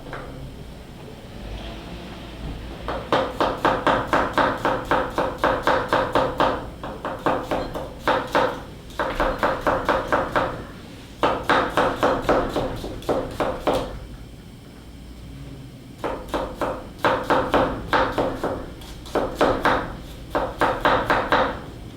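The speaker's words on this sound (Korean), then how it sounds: "먼저 마늘은 약간 입자 있게 다져주시면 되세요" A knife mincing garlic on a cutting board in a cooking-exam kitchen, with fast, steady chopping taps in bursts of several seconds separated by short pauses, close and clear, no talking.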